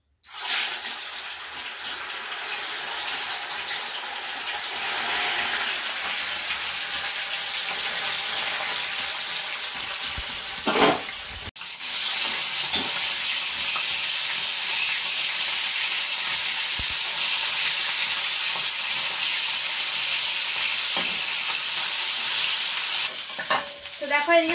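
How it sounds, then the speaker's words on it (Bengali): Silver cup fish frying in oil in a home kitchen, a steady, close sizzle and crackle running throughout with a brief dip partway, no talking. "এবার মাছগুলো ভাজবো।"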